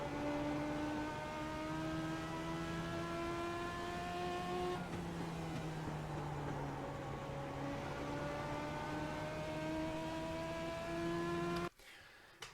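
A race car in a racing game laps the Bullring. Its engine drones steadily with clear rising and falling pitch through the corners, close and constant, then cuts off near the end.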